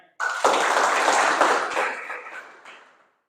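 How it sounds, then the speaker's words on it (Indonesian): A classroom of students applauds during a lesson, a dense burst of clapping that starts abruptly, holds for a couple of seconds, then fades out quickly. "Tepuk tangan untuk kalian semuanya."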